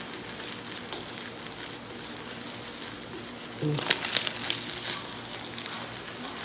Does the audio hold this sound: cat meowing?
no